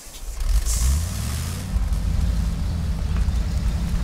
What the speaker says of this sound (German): Beim Anfahren klingt das so schön dreckig, der Wagen.